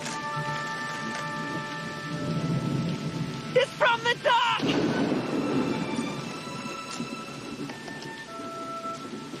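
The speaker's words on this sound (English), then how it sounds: "Lightning crashes." Thunder and rain from a Back to the Future movie scene: a steady downpour rumbles throughout with heavy thunder cracks in the middle, while a voice shouts briefly and sustained tones play over the storm.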